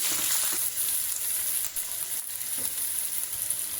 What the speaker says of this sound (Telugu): ఆనియన్స్ అన్నీ వేసేసి, ఆనియన్స్ కొంచెం వేగిన తర్వాత టమాటాస్ వేసాను